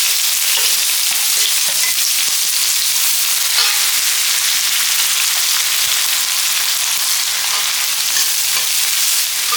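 Finely chopped onion fries in a pan with a loud, dense, unbroken sizzle like heavy rain, with faint stirring scrapes now and then.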